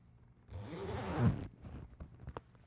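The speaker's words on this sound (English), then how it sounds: "Zip it." A camo-fabric jacket sample with orange tape has its zipper pulled closed in one steady, close rasping stroke lasting about a second, followed by a few light handling clicks.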